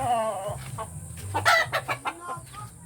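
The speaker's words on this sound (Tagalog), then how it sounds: "Check mga manok ko kasi dito." Backyard chickens cluck in short, irregular bursts close by, with a rooster-like call rising in the middle before trailing off into softer clucks.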